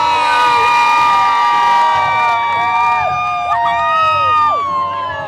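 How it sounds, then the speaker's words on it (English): Hockey fans cheer loudly inside Capital One Arena before a Washington Capitals season opener, a dense continuous crowd roar with shrill whistles and sliding, siren-like horn tones rising and falling over it. "all the fans cheering on the grade 8 here at Capital One Arena"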